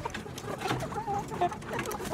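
Healthy young hens about sixteen and a half weeks old make soft, scattered clucks and murmurs at close range, with no talking over them.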